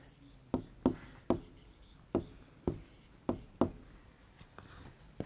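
Pen or chalk writes out Hindi words during a class 3 language lesson. Quiet, crisp strokes and taps come in an uneven rhythm, about ten distinct marks in a few seconds, close by with no talking.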